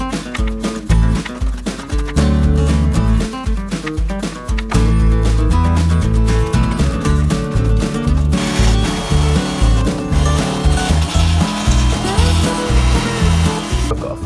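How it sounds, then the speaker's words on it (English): A brush scrubs dirt and debris out of a rusty VW T4 van front wing panel in loud, fast, rasping strokes that run almost continuously, with a short pause near the start. "I'm just going to clean this up now as good as I can with a brush"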